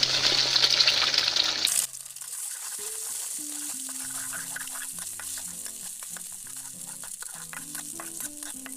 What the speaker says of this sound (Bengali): সামান্য লবণ দিয়ে ডিমটা ভেজে নেওয়া হবে।